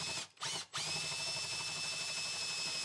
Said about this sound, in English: To start off with, I'm drilling a 8mm hole so this can be seen from inside the loft.